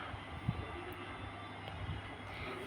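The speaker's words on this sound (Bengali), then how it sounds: "তো ট্রেনটা এবার ছেড়ে দিল, দেখতে পাচ্ছ ছেড়ে দিয়েছে ট্রেনটা।" A passenger train pulls away and rolls along, heard from inside a carriage as a steady, quiet rumble and rattle with occasional soft knocks.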